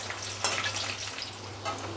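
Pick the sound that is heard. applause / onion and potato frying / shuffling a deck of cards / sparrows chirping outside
onion and potato frying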